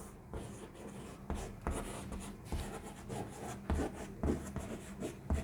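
Pen or chalk strokes scratch across a writing surface during a classroom lesson, with steady rubbing and tapping marks that come in irregular bursts, close and moderately quiet.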